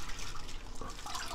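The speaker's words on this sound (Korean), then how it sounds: "찬물에 헹궈주는구나" Steady splashing and trickling of running cold water as shepherd's purse greens are rinsed, close and continuous, with no voices.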